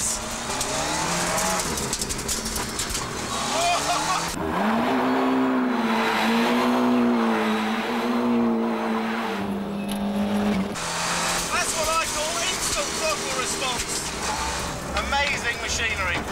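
A Ford Puma rally car races hard, its engine note rising and falling with rapid gear changes, loud and close, with voices talking over parts of the run.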